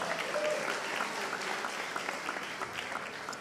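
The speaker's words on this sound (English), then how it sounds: "A big applause for Sori," Applause at a pizza awards evening in Milan: a dense crowd clapping steadily throughout, fairly distant and even, with faint voices mixed in.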